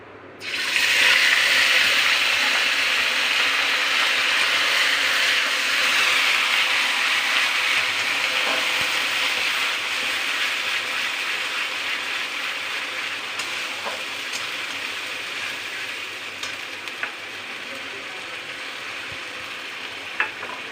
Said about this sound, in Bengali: এবার আমি যে আদা, রসুন, পেঁয়াজ এবং জিরের যে পেস্টটা করে রেখেছিলাম সেটা আমি দিয়ে দিচ্ছি।